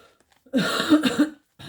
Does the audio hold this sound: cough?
yes